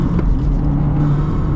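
A Subaru WRX Baja with a turbo accelerating, heard from inside as a steady, loud low engine rumble and whir that stays even for the whole short stretch, with no talk over it.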